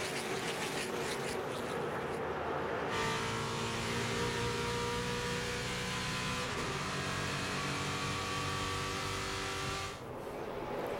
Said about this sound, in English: Green flag's out, and we're racing again at Daytona.